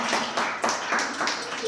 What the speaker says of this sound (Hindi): तो एक बार आप अपने सारे शिक्षकों के लिए जोरदार तालियां बजाएं